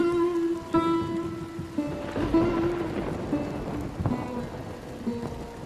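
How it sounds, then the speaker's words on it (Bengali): Light drizzle falls along a dirt path beside a railway line in the countryside, a soft, steady patter under sustained tonal droning. "আমরা যখন যাচ্ছি তখনও ঝিরঝির করে বৃষ্টি পড়ছে"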